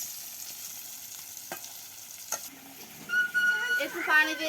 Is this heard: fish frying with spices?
yes